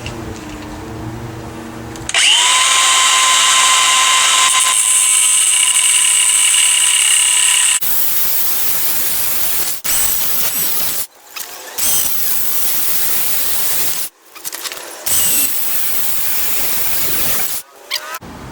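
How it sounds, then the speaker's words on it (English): A power grinder cuts studs off a 1993 Cobra brake booster fitted to a Fox Body Mustang, whining loud and close in long harsh bursts separated by short pauses. "Let me go ahead and cut off those pieces."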